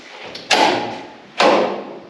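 Two heavy metal doors opened one after another in a room being readied for use, each giving a loud broadband thud-and-scrape burst about a second apart that fades quickly, with no talking.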